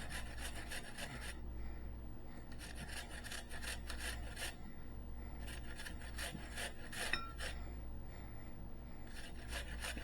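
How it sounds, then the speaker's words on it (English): An apple is rubbed against a grater for coleslaw, giving steady rhythmic rasping strokes in repeated bursts, close and fairly loud over a low background hum, with no talking. "So you grate that apple in there."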